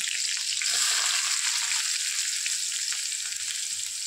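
Chili and onion fry in oil in a pan with curry leaves, making a dense, steady sizzle that stays close and fairly loud for the whole stretch, with faint stirring scrapes and no voices.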